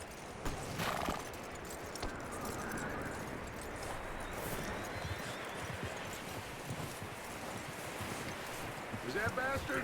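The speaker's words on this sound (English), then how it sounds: "That looks like a decent horse." Horse hooves clip-clop steadily on the ground in the Red Dead Redemption 2 video game, a continuous trotting rhythm with wind and ambient noise, a whinny near the start.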